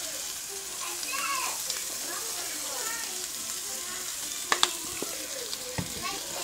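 Curry seasonings frying in hot oil in a pan give off a steady close sizzle and crackle throughout, broken near the end by a few sharp clicks and taps of a utensil, with no one talking.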